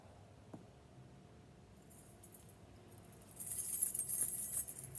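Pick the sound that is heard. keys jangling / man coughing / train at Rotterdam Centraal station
keys jangling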